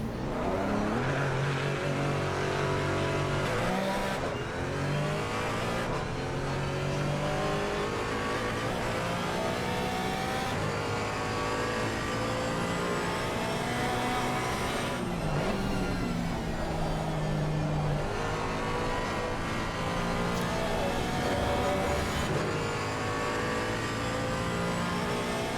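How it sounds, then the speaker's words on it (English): Porsche 718 Cayman GT4 lapping Oulton Park in a racing video game, its engine note continuously rising and falling through gear changes and revs for the whole stretch, steady and prominent with no voices. "let's see what the Porsche 718 Cayman could do around Oulton"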